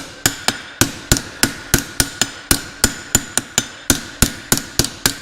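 A blacksmith's hammer strikes hot metal on an anvil in steady rapid blows, about twenty sharp ringing hits each trailing a short metallic ring, loud and close with no talk.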